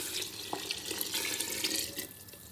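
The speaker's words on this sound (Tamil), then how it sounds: "இப்போ இதுக்கு தேவையான அளவு தண்ணி ஊற்றிக்கலாங்க." Water poured into a pot for cooking rice, a steady splashing and trickling stream close by.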